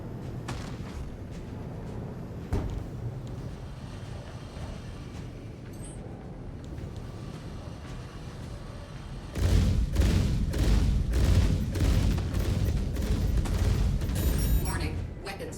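Weapons fire from a Star Citizen F8C Lightning fighter, with scattered thuds at first, then a dense run of rapid, punchy blasts in quick succession, loud and close.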